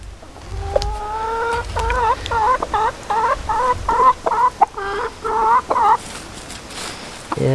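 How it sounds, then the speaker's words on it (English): Chickens cluck repeatedly in a steady, rhythmic series of close, nasal calls over soft background noise. "Go on then, chickens, have a rummage."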